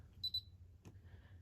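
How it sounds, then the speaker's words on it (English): An AEG L9FENS96 washing machine gives two quick high-pitched electronic beeps close by, followed by a brief click and a faint steady tone over low background hum. "You heard that beep, which means it's turned off."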